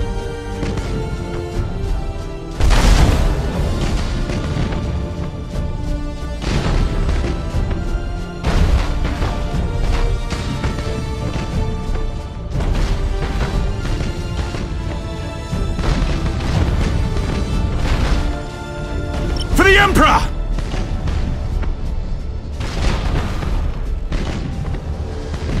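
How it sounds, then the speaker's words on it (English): Heavy broadside macro cannons in the space strategy game Battlefleet Gothic: Armada boom repeatedly over a dense bed of continuous battle noise, with loud booming peaks at regular intervals and a sharp crash near the end. "Broadside macro cannons ready to fire on your order"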